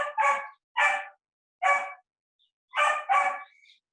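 A dog barks in four separate bursts, some doubled, with short silent gaps between them, close and fairly loud with no other sound.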